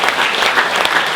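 An event audience claps steadily for composer M. S. Viswanathan, a dense, even wash of many hands applauding, loud and close throughout the short stretch.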